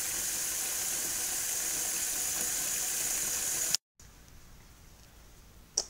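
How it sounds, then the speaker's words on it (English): Tap water rushes into a kitchen sink while a beer bottle is cooled in cold water, a loud steady hiss that cuts off abruptly, then faint trickling and a brief squeak. "Stick it in the sink, put some cold water around it."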